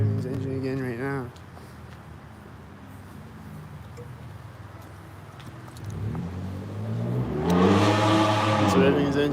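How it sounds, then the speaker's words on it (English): A black truck revs its engine nearby in a loud rising burst near the end, after a quieter stretch of low rumble, with a brief higher engine whine at the start. "He's revving his engine again right now."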